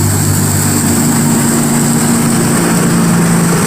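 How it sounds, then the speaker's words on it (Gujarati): A tractor-driven thresher runs loud and steady with a constant engine drone and a sustained mechanical whine, close by and unbroken throughout, with no voices. "તો અમારું હલર હાલે છે"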